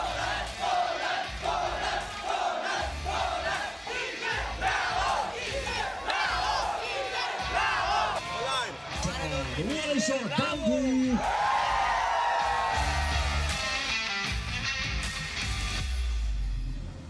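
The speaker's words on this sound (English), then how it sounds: "Crowd absolutely losing their minds over these two superstars." A packed cricket stadium crowd roars and chants through a T20 league final, loud and continuous, with a voice shouting over the din.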